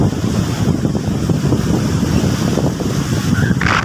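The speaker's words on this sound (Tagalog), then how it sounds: "Malakas ng alon." Strong ocean waves crash and roar steadily at a beach resort in Naic, Cavite, with heavy wind buffeting the microphone throughout.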